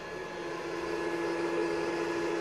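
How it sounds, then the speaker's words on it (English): The cooling fan in a Hitachi 18-volt battery charger runs during charging, making a steady whirring hum with a faint tonal whine, constant and close, with nothing else heard. "here's the sound of that fan"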